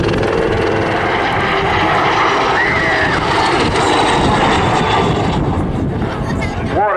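Loud helicopter engine and rotor noise from a high-performance display helicopter in flight at an airshow, steady and close, with a faint rising whine near the end.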